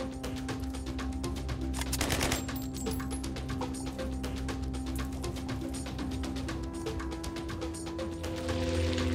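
Rapid automatic gunfire in the post-apocalyptic video game Highwater, steady mechanical bursts running continuously under a droning background score, loud and close throughout.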